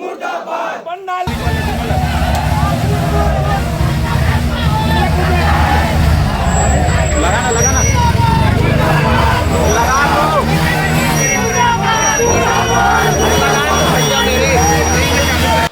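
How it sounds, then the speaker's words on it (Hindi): A dense protest crowd chants slogans outside a house, loud and continuous, with many voices blending into a roaring mass of shouting that keeps going throughout. "आप माहौल देखेंगे कि किस तरीके से लोग नारेबाजी कर रहे हैं"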